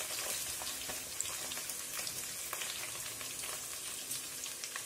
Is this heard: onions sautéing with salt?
yes